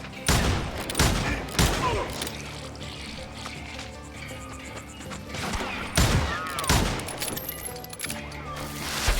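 Gunfire in the Call of Juarez: Gunslinger video game erupts in a few heavy clustered bursts of shots, separated by quieter stretches with mechanical clatter and ambient rumble.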